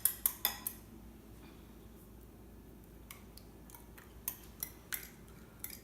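Slaw is tossed with dressing in a bowl using tongs, giving sharp metallic clinks and taps, several in quick succession at the start and more scattered later, over quiet room tone.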